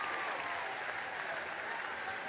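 A crowd claps and cheers steadily at an athletics race during the European Athletics Team Championships in Sandnes, making a dense, continuous roar of applause throughout.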